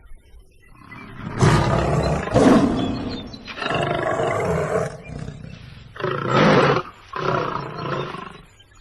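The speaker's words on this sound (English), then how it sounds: "Lion." A lion roars in a sequence of five deep, forceful bursts, the first two long and grinding, then shorter heavy grunts, close and loud with brief silences between.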